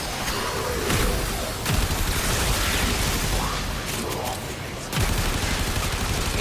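An unmodded, level 0 weapon fires in Warframe, a continuous rattling stream of rapid shots with a few louder booming hits and short breaks, heavy and dense throughout.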